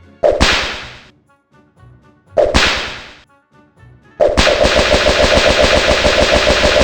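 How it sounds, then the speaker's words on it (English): Sharp whip cracks from a cowboy-themed rodeo promo for DELTARUNE: two loud single cracks with decaying tails, then a rapid rattling burst of repeated cracks like gunfire, loud and close. "we get a satisfying whip cracking sound when you click on them"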